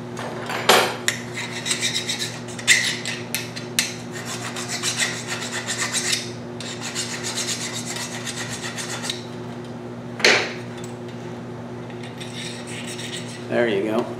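Hand file rasping a small burr from a through hole in a DIY wooden whirligig arm, a series of scratchy back-and-forth strokes in short bursts close up, with quiet pauses between.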